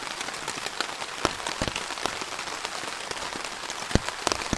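Heavy rain drumming steadily on a tarp shelter during an overnight camp in wind, a dense continuous patter with occasional louder drops striking close by.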